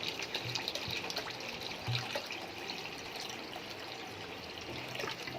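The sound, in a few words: water being poured into the pan for doi katla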